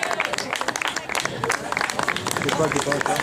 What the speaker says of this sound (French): le troisième qu'on va applaudir également